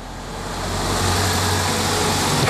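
Cars passing close by in a residential street beside a front garden, a steady broad engine and tyre rush swelling and holding loud, with no talk.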